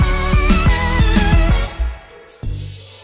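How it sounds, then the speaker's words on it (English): A rhythmic song passage stops abruptly, leaving a washy reverb tail that fades out before a new sound enters. "I'm just gonna add this reverb at the end of the song"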